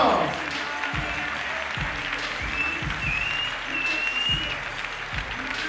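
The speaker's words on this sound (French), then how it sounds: "On peut les applaudir très fort." Crowd applauding fighters after a match at a combat sports event, continuous clapping and cheering throughout, with a few heavy thumps and a faint whistle or squeak above the crowd noise.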